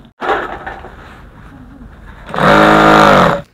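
A sewing machine stitches a collar onto a bubu dress: a short burst of whirring at the start, a quieter pause, then a loud, steady run of rapid stitching close by.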